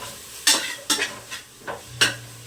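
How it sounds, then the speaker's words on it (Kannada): Greens (kaata betta soppu) fried in a pan, heard as a quiet sizzle broken by five or six regular scraping stir strokes of a utensil against the metal. "ಕಾಟ ಬೆಟ್ಟ ಸೊಪ್ಪು ಇದು ಕೂಡ ಚೆನ್ನಾಗಿ ಫ್ರೈ ಮಾಡ್ಕೊಳ್ತಾ ಇದ್ದೀನಿ"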